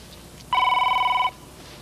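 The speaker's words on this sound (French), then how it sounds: "Téléphone." A telephone bell rings once in a single bright, steady burst of a little under a second, loud and close, with quiet room tone before and after.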